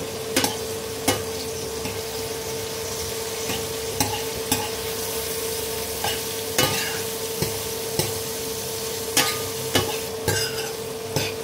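Bitter gourd (ampalaya) stir-fried in a pan, a steady close sizzle punctuated by regular sharp scraping and clacking strokes of the spatula roughly every second, with no talking.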